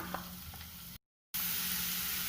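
Onions sizzling in a pan with tomato puree and soy sauce, a quiet steady frying hiss close by, briefly cut to silence midway before the sizzle resumes louder.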